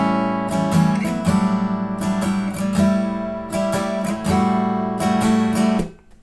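Close acoustic guitar strumming through the final chord sequence of a song, with steady rhythmic strokes and ringing chords that fade out at the end, no talking.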